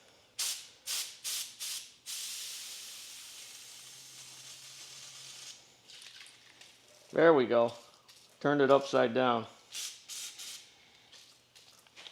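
An aerosol spray can lets out one steady hiss lasting a few seconds, close by, with people talking briefly before and after it.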